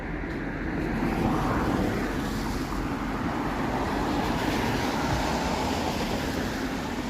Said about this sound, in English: Hey, there's a GO train. A GO train is going.